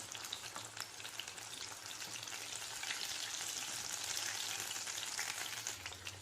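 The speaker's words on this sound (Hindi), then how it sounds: "अभी लो फ्लेम पे फ्राई करें ताकि अंदर तक अच्छे से पक जाए।" Minced meat kebab balls, Old Delhi style kheema goli bound with egg, frying in oil over a low flame, giving a steady close crackling sizzle with fine popping throughout.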